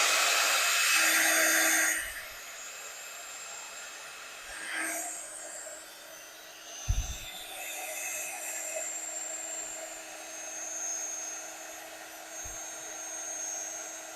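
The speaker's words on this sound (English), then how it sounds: "So I'm sorry if the heat gun's loud." A heat gun used for heat embossing roars with a loud blowing hiss for about two seconds, then drops to a softer steady whoosh with a few faint knocks and bumps, and no one speaks.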